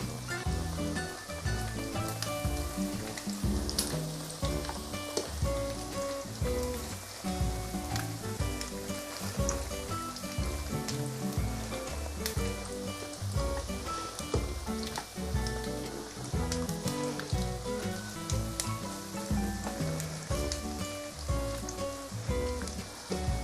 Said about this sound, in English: It's easier to deep fry using a non-stick pot